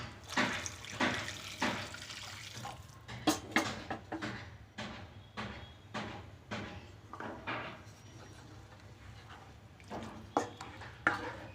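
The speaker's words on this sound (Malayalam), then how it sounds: "നമുക്കിതിലേക്ക് സ്വല്പം ചൂടുവെള്ളം കൂടി ഒഴിച്ചു കൊടുക്കാം." Hot water being poured into a pan of stuffed capsicum gravy while cooking, a steady watery splash running through with repeated clatter and knocks of utensils and the pan, close by and moderate in level.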